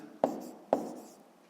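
Pen strokes on paper while numbers are written out by hand during a fifth-grade maths exercise, two short distinct scratches with a quiet pause between.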